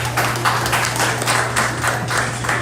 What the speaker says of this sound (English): I give a round of applause for that.